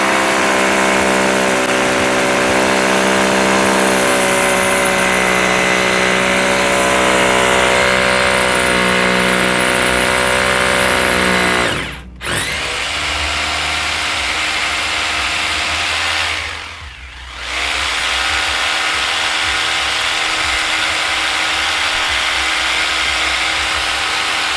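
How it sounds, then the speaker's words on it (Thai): A power drill bores into a pillar at a new house to make a hole for inserting steel, running loud and steady with a harsh whine, cutting out briefly twice before resuming. "ตอนนี้นี่มันเจาะเสาเพื่อจะเสียบเหล็กได้"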